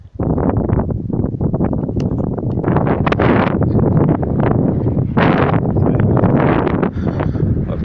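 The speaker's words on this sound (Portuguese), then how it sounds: "Esse vento." Strong wind gusts over a small lagoon batter the microphone in loud, continuous, rough buffeting that surges and rustles throughout with no break.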